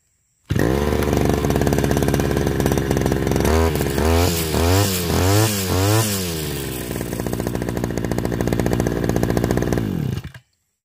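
Small two-stroke engine of a grass trimmer running near and loud after its throttle cable was replaced, idling steadily, then revved up and down in several quick bursts before settling back to a steady idle and cutting off.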